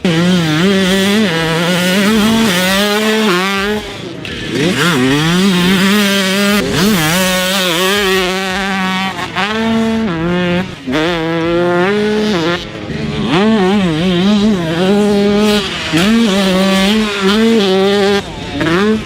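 A 2003 Kawasaki KX144 two-stroke dirt bike rides hard around a track, its engine screaming and revving up and down through repeated gear changes, loud and close with brief dips between bursts.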